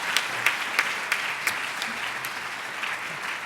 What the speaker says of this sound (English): Please give all of our mentors a great big round of applause.